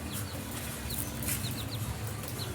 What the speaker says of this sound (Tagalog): Lagay natin yung sisiw.